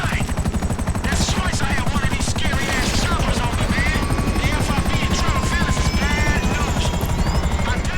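A helicopter hovers close by in Grand Theft Auto V during the Merryweather heist, its rotor thumping in a fast, steady rhythm throughout. Scattered gunfire and other game effects sound over it, and a voice speaks briefly.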